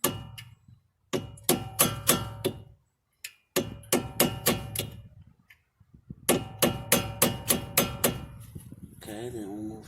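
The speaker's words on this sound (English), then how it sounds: "So I'm gonna hammer them out." Sharp metallic hammer strikes drive out the front brake caliper pins on a Cadillac ATS, close and loud in quick bursts of four to six blows separated by short pauses.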